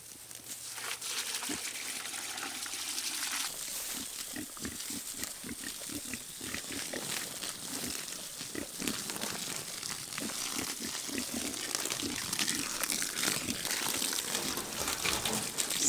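Water sprays steadily from a hose near pigs, producing a continuous hiss and splatter with crinkly, wet textures throughout, accompanied by occasional soft grunting from the animals.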